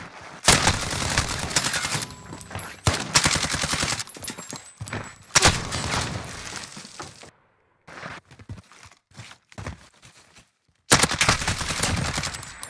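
Video game gunfire rattles out in loud, close bursts of rapid automatic fire with short breaks and a quieter gap of scattered single shots before a final burst, with no talk.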